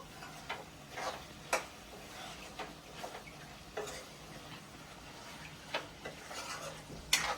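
Gongura chicken stirred in a pan with a utensil, faint scattered scrapes and clinks against the metal spaced irregularly over a soft background hiss, no talking.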